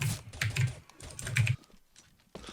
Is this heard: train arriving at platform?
no